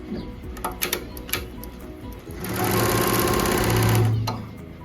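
An embroidery machine, slowed from 1000 to 900 stitches per minute, stitches out a Gorilla Tag mask with a fast, steady mechanical chatter that swells loud and continuous after a few brief starts.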